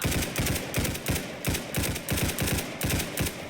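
Rapid, steady bursts of automatic gunfire from a Roblox Hypershot first-person shooter, with sharp repeated shots in a driving rhythm, loud and close, and no voices.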